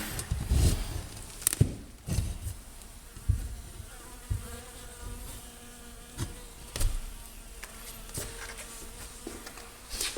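Bees trapped inside a hive during a removal give off a continuous, close insect buzz, with scattered knocks and bumps over it.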